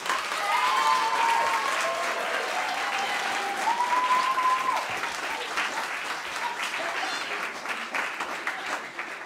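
An audience at a live stage show gives sustained applause for Romane and Bertie, a dense, even clapping that lasts several seconds with faint whoops or cheers rising over it, easing off slightly toward the end.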